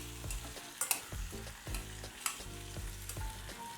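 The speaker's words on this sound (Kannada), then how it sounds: "ಒಂದ್ಸರಿ ಚೆನ್ನಾಗಿ ಮಿಕ್ಸ್ ಮಾಡ್ಕೊಳ್ಳೋಣ" A spoon stirs chili, tamarind juice and jaggery in a hot pan, giving quiet, rhythmic scraping strokes about twice a second over a low sizzle, with no talking.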